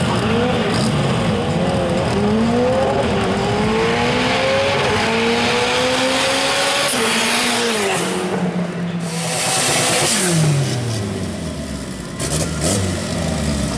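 Drag racing cars at a Gaúcho de Arrancada event, with roaring engines climbing in pitch as they accelerate down the 201 m strip and shifting gears, loud and steady, under a commentator speaking Portuguese.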